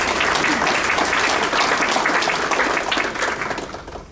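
Audience applause for an honoree at a school district staff awards ceremony, dense steady clapping from a full room that tapers slightly near the end, with no talking over it.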